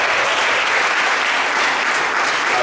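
A church congregation at a Pentecost seminar applauds to acclaim the Lord, a dense, steady roar of clapping that stays loud and even throughout with no break.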